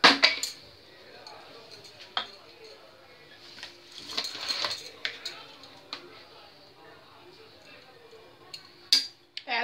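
Salt being stirred into sarson ka saag, a Punjabi mustard-greens dish, in a pot: intermittent utensil scrapes and metallic clinks against the pot, quiet and close, with scattered gaps between strokes.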